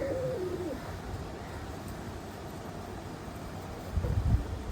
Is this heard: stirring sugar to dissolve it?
no